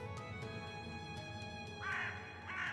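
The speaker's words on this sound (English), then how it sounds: "Even the birds that were perched up on tree branches let out frightened caws." Crows in the horror visual novel Tiny Bunny let out two harsh caws over a quiet, humming ambient background.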